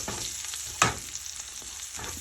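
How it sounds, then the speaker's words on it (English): Brussels sprouts with bacon and apples sizzle steadily in a pan, with one sharp scrape of stirring partway through, with no talking. "after you stir this together"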